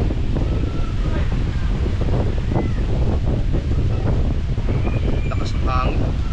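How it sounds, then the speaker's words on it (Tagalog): Strong wind buffeting the microphone at the seaside, a constant loud low roar with surf mixed in, steady with no pauses. "Lakas ng hangin."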